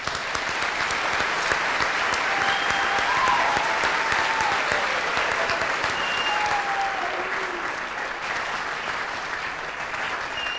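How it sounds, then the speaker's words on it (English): Audience applause for scholarship recipients at a high school scholarship night, a steady wash of many hands clapping at full volume, with faint cheers and whoops drifting over it. "Let's give them all one more round of applause."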